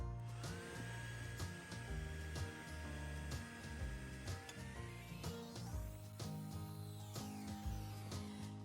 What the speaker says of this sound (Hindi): मैं बोल नहीं सकती क्योंकि ड्रायर की आवाज़ बहुत ज़्यादा होगी।